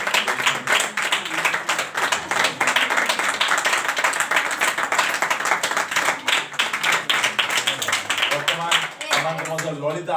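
Rapid, rhythmic group clapping at a Christian gathering, loud and steady for several seconds before voices take over at the end.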